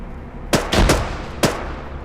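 Frag grenade blast and gunfire in the military shooter Arma 3: a burst of sharp, loud reports in quick succession, a heavy boom among them, then one more crack after a brief pause.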